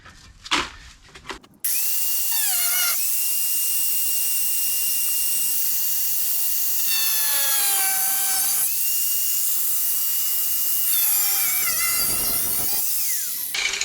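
A loud, continuous high-pitched power tool grinds through a Ford Fusion car body panel, its whine rising and falling in pitch as it cuts, after a few brief knocks at the start.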